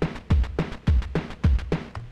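Famitracker chiptune drum beat looping with punchy sampled DPCM kicks and snares and hissy noise-channel hi-hats, a tight, close, repeating rhythm with no voices.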